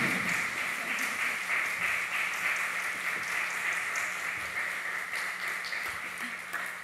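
A church congregation applauds church school teachers during a Sunday service, a broad sustained wash of clapping held steady across the room for several seconds, moderately loud and slightly distant.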